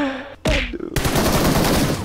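Rapid automatic gunfire in a battle royale video game, loud and close, rattling in a sustained burst after a brief sharp shot and a moment of other game noise.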